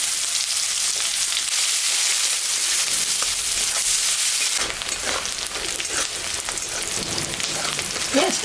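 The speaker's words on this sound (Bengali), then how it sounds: "পেঁয়াজটা ভাজা ভাজা হয়ে গেছে," Onions fry in leftover fish oil with dried red chilli and cumin, making a continuous bright sizzle that turns busier and crackly halfway through as the pan is stirred, with occasional spoon scrapes and no talking.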